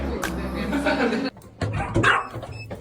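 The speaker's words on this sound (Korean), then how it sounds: "왜 짖어?" A small dog at home barking in a quick series of close, sharp yaps and whiny yips over a steady low hum, with a brief lull midway.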